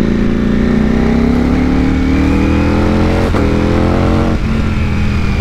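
A Ducati V4S motorcycle engine revs loudly up close, its pitch climbing steadily as it builds, then briefly dipping before holding a strong, sustained roar.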